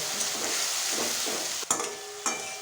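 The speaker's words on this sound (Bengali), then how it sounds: "সুন্দর করে এটাকে আমি এখন ভাজা ভাজা করবো" Ginger, garlic, onion and chili paste sizzles steadily in a pan for a yogurt fish curry (doi katla), with two sharp spoon scrapes near the end cutting through the close, continuous frying.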